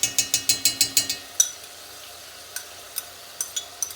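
Chopped carrot, onion and garlic tossed into a hot pan for a braised beef ragu, with a quick run of sharp stirring clatters over a fry, then scattered scrapes and taps against a low sizzle.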